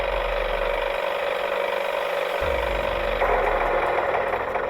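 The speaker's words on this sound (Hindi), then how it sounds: "वहां से अपने ट्रैक्टर पर गुजर रहा था" A tractor engine idles and chugs steadily in an animated story, a low mechanical rumble that shifts partway through to a rougher, louder running tone.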